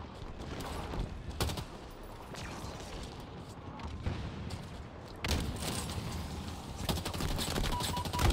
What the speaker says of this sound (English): How is he rapid firing?